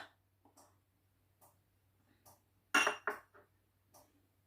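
A knife chops green chilies on a board in a home kitchen, a series of sparse, sharp taps with one louder clattering burst in the middle, no talking.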